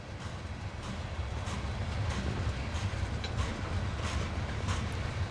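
A CN freight train slows as it nears the Waterloo yard, giving a continuous low rumble of rolling cars with faint clanks and squeals, moderately distant and steady throughout.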